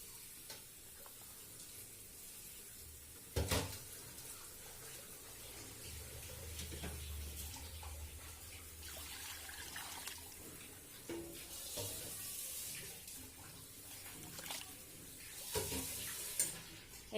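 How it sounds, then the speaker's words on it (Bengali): Several litres of water are run into a cooking pot to fill it for nehari, a quiet continuous splash and trickle broken by a few sharp knocks and clanks of the pot. "এখানে এখন পানি দিয়ে দিচ্ছি। পানিটা আমি পাতিলটা ভরেই দিব।"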